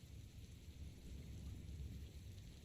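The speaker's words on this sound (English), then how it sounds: "I don't mind the rain personally." Steady rain in a DDLC visual novel mod, a continuous dense hiss with low rumbling texture, moderately faint and unbroken throughout with no voices.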